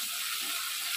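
Spice paste sizzles in hot ghee for a chicken curry, a steady bright hiss of frying that holds evenly throughout the short moment.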